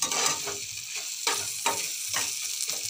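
Ground cumin frying with potatoes in a pan, giving a steady sizzle broken by several louder scraping stirs of the spoon at irregular moments; no voices.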